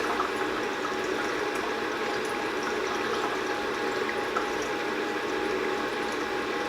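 Water running steadily into an H2Life reservoir, a constant rushing, bubbling fill with no pauses, heard close up with no voices.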